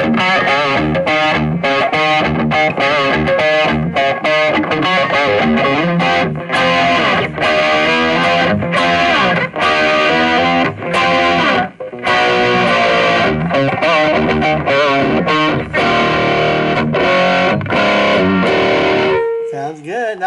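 Electric guitar played through BOSS effects with heavy distortion for a 1970s tone, a loud, continuous riff of driving chords and choppy stabs with short pauses, no voices over it.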